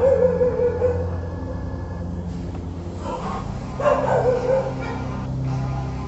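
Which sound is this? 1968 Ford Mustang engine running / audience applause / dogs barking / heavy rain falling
dogs barking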